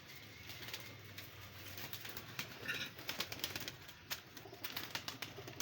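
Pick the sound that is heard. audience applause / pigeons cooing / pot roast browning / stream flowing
pigeons cooing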